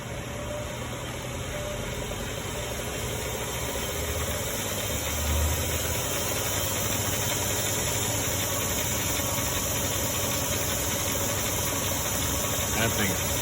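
A DC treadmill motor drives a Harbor Freight Central Machinery 44142 3-in-1 mill drill lathe. It makes a steady mechanical whirring with faint rattling that grows slightly as the motor speeds up, and it is heard close and continuous.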